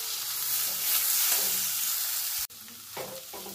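A thick ground paste is stirred and fried in a wok with spices, giving a loud, steady sizzle with scraping stirs that briefly cuts out near the end, then resumes more quietly.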